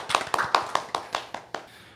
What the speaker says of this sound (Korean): 오늘 멋진 무대 보여주신 임준혁 카운터 테너님께 다시 한번 큰 박수 부탁드리겠습니다.